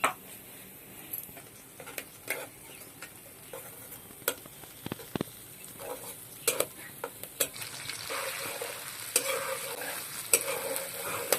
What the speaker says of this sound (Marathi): ते आम्ही आधी तळून घेणार आहोत तेलामध्ये